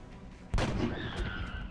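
A single loud, close rifle shot fired by a soldier in the turn-based video game XCOM: Enemy Unknown, with a sharp onset and a rolling, echoing tail, followed by a faint high tone.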